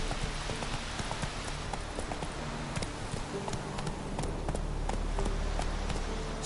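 Galloping horse hooves in The Witcher 3 video game pound in a fast, steady rhythm of close hoofbeats over a dense, hissing ambient bed, with no talking.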